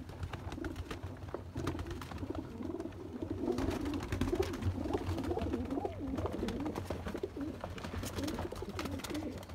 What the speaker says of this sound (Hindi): करें शौक देखें कबूतर, एक से बढ़िया एक परिंदा लाया हूँ आपके लिए